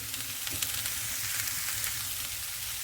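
Sausage fried rice sizzles steadily in a hot pan, a continuous close crackling hiss with no pauses or voices.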